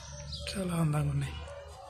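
Small birds chirp in a city park in Olivais, Lisbon, a short run of bright, close tweets rising and falling over a low background hum, with a person speaking nearby.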